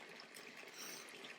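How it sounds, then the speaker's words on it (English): Water runs steadily from an outdoor hose tap in a backyard while a dog drinks from it, a faint continuous splashing trickle with no talking. "she is drinking from the hose tap because she won't drink water from her bowl anymore"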